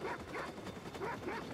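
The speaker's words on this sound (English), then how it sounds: "Ah, fucking dogs." Several dogs bark and yip close by in Watch Dogs 2, a short rapid string of barks in quick repeated bursts.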